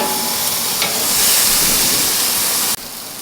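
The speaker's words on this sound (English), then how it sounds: "Time for the sear on these burgers." Burgers searing over a charcoal grill give off a loud, steady sizzle and hiss that swells slightly midway, then drops abruptly near the end to a quieter sizzle.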